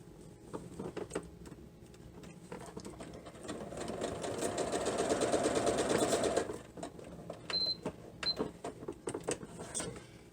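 Sewing machine stitching pieces of a heart-shaped quilted table runner, a steady close mechanical whir that builds to a fast continuous run in the middle, surrounded by shorter bursts and clicks, with no talking.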